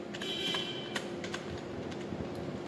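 Python code being typed on a computer keyboard: quick, scattered keystrokes close by, clicking unevenly over a steady background hum.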